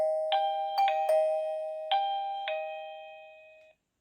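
Several close presses of a wireless camera doorbell set off its chime in overlapping electronic bell tones, five quick rings in a row that then fade out into silence, with no voices.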